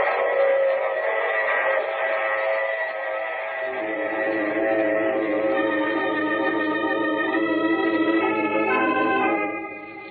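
A train rolls along the rails as a radio drama sound effect, a steady loud rumble with a sustained tonal whistle-like drone that changes pitch partway through and then fades slightly at the end, with no voices.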